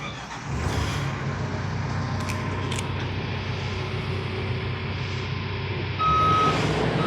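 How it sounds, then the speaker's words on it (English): A Dingli BA44 boom lift runs with a steady diesel-like engine drone and hydraulic hum as its axles extend, joined near the end by a thin high-pitched warning beep, heard close with no talking. "now Ralph, our instructor, is going to be extending the axles on the Dingli BA44"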